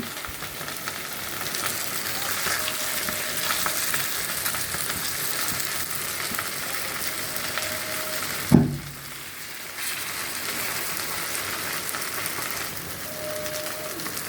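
Rohu fish frying in a pan alongside onions and green chilies, a continuous close hiss and crackle with a sharp clatter midway as the pieces are flipped, then quieter sizzling resumes.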